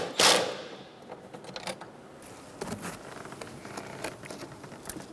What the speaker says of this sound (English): Once you tighten those up, you can tighten up your nut.